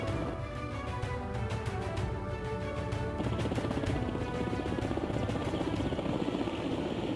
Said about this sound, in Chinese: 执行搜救回收任务的5架直升机再一次起飞，前往各待命点。